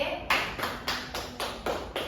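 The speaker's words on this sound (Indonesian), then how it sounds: "Kita tepuk tangan dulu ya untuk Ade" A class applauding a student, eight sharp evenly spaced claps in a quick rhythm, close and crisp in a quiet room.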